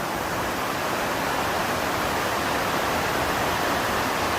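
Water leaking and splashing inside a workshop, heard as a steady, dense hiss of running and dripping water that stays loud and unbroken throughout.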